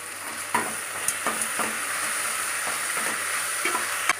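Food sizzles steadily in a hot pan while onions and ingredients for green gram biryani sauté, with occasional clinks and scrapes of a utensil stirring through the crackling.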